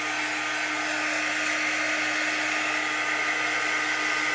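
A hair dryer blows steadily and loudly at close range, drying freshly inked Chalk Couture craft work, its whine unbroken throughout with no voices.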